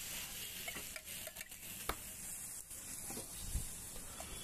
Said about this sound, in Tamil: ஓகே, ஆம்லேட் நம்ம ஊற்றியாச்சு.